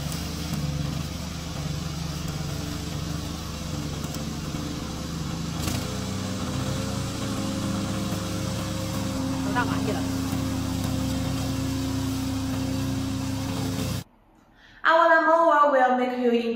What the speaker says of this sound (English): This is our remote controller mower.